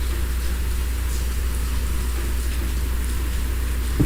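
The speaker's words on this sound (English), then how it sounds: "Rain hitting the frog pond, rain running down the chain link fence" Steady rain patters across a frog pond and runs down a chain link fence, a dense, even hiss that stays constant throughout, with no voices.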